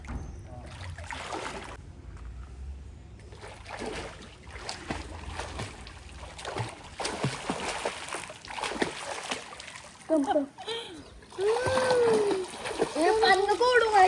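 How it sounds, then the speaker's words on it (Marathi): Water splashes in a resort swimming pool at Alibag in irregular sloshes and splatters. People talk, laugh and call out over the water throughout, with louder voices toward the end. "पाणी नको उडू माझ्या केसांवर."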